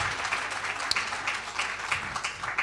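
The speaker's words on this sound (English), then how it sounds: "I think we need to give them a louder round of applause" Guests at a women's investment breakfast give the panelists a lively round of applause, dense clapping with a few sharp individual claps standing out, held steady throughout.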